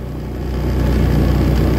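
A motorcycle engine passes near a hill training session, a loud, steady mid-pitched drone that swells slightly as it approaches over about two seconds, with no talk over it.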